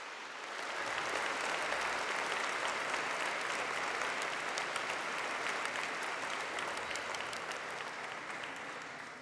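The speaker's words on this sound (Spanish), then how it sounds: "Yo invito a los fieles a que les den un aplauso a los que siguen la Santa Misa hoy" A church congregation applauds during Mass, a dense, sustained wash of many hands clapping that holds steady for the whole stretch at moderate distance, with no speech over it.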